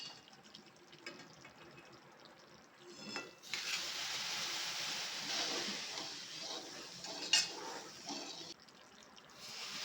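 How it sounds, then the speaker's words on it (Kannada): Gram flour mixture for Mysore pak being stirred in a pan while hot oil is poured in, giving a steady sizzle and scraping that swells loudly midway and continues, with no talking. "ಒಂದು ಕಡೆ ಎಣ್ಣೆ ಕಾಯ್ತಾ ಇರಬೇಕು, ಇನ್ನೊಂದು ಕಡೆ ನಾವು ಎಣ್ಣೆ ಹಾಕ್ಕೊಂಡು ತಿರುಗಿಸ್ತಾ ಇರಬೇಕು."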